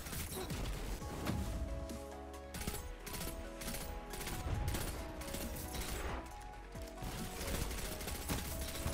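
Redrix Broadsword pulse rifle in Destiny firing rapid bursts amid busy combat noise, dense crackling shots and impacts layered continuously over game music.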